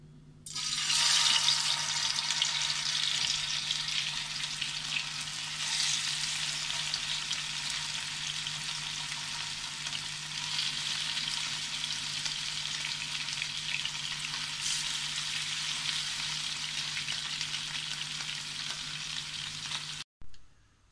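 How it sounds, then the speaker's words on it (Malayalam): Mackerel pieces fry in hot oil over a low flame in a Kerala kitchen, a loud, continuous close sizzle that swells early, holds steady for about twenty seconds, then cuts off. "തീ കുറച്ച് വെച്ച് മീൻ പൊരിച്ചെടുക്കാം"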